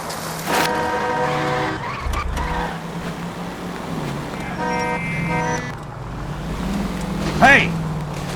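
Car driving in the L.A. Noire video game, a steady engine drone with a harmonic whine rising and falling, brief tire squeals near the end, and talk over the top.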